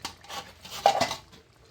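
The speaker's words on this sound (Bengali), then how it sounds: "ঢাকনাটা খুলে দেখব কেমন হয়েছে সোয়াবিন রান্না" A metal lid lifts off a pot of soybean and potato curry with a single sharp clank and a short rattle, close and alone.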